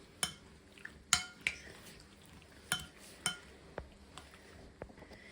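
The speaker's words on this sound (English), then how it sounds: "So now it's time to mix everything well" A utensil stirs steak marinade in a bowl, producing sparse, sharp clinks and taps of metal against dish at irregular intervals, quiet and close, with no talking.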